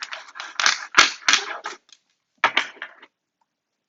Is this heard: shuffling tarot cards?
yes